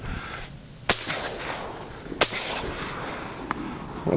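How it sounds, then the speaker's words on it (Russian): Shotgun blasts while duck hunting in the Vologda region: two sharp, loud reports about a second apart, then a third fainter shot, over quiet outdoor background. "Вот такой дуплет на Вологодчине"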